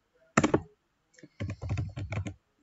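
A password is typed on a computer keyboard: a quick burst of keystrokes, a short pause, then a longer rapid run of close, clear key clicks in a quiet room.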